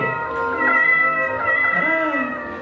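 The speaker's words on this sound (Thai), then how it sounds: "ไม่จะเสียงแมวนั่นเหรอ" A cat's meow rings out in a library setting during a book-sale stage performance, a clear, drawn-out cry with a wavering tone that bends downward at the end, fairly close and alone.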